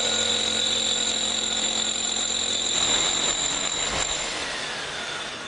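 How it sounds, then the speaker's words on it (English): Rotary hammer drill fitted with a coring bit boring through a stucco wall, a steady loud grinding whine running continuously up close, easing slightly toward the end. "we're going to use this rotary hammer drill with a coring bit to give us a nice clean hole"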